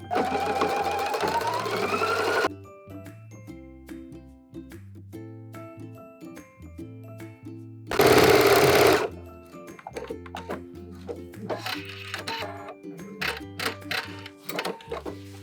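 A sewing machine stitches a waistband onto the waist of a pair of high-waisted shorts, running in close, steady mechanical bursts. Short pauses and a louder fast stretch break up the stitching, and no one speaks.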